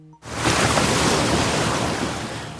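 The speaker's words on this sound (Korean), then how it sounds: "이런 거센 바람 때문에 파도가 높게 일어 배가 부서지고 말았어요" Strong wind and high ocean waves break in suddenly after a brief quiet moment, then keep up a loud, steady roar of surf and gusts.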